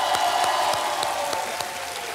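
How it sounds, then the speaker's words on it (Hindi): Studio audience on the Kaun Banega Crorepati game show claps steadily for a contestant, a dense, even burst of applause filling the whole stretch with no talk over it. "जोरदार तालियां बज जाए"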